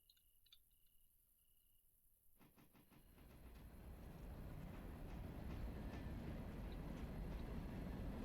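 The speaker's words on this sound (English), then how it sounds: "this train is built backwards right now" A freight train being pushed in reverse along a track rumbles in, swelling from near quiet into a steady, close, continuous roll with faint rhythmic clatter and high insect-like hiss, no talk.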